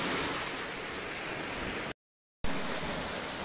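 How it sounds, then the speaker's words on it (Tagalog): Strong waves churn during Typhoon Odette, a steady, heavy roar of surf that carries on without a break, cut by a brief gap of total silence partway through. "nabulabog tayo dahil sa lakas, sobrang lakas ng alon dito."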